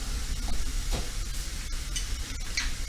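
Sausage and vegetables brown in a frying pan, a soft steady sizzle with scattered scraping clicks as the food is moved around, close and alone without speech.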